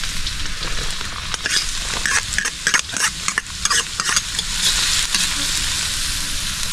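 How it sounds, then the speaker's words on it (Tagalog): Garlic and onion sauté in a hot pan, a steady close sizzle broken by repeated scrapes and clinks of stirring throughout. "So tayo mag-gisa na natin mga ingredients. Bawang sibuyas."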